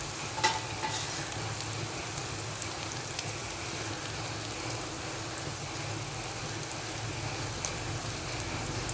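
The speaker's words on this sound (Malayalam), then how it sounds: "കുറച്ചൊന്ന് വാടി വരുമ്പോൾ നമുക്കതിലോട്ട് ചിക്കൻ പീസസ് ഇട്ട് കൊടുക്കാം." Cooked chicken pieces stir-frying in a pan while making chicken noodles, a steady close sizzle and hiss with faint stirring scrapes throughout, no voices.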